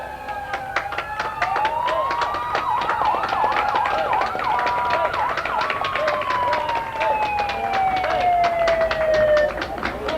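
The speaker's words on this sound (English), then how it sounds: "somebody's got their sirens going, and I think that's a bad habit to get into in these parades." Fire department vehicles in a Labor Day parade sound their sirens loudly and nearby. Several wailing and yelping tones overlap against crowd noise and a public-address voice for the whole stretch.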